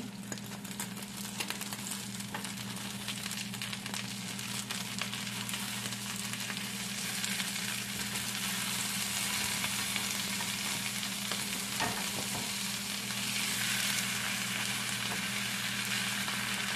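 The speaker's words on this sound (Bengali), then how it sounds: "ডিমটা একটু নেড়ে নিচ্ছি।" Egg frying for a cheese tomato omelette in a pan, a steady close sizzle and crackle lasting throughout with soft stirring underneath and no voices.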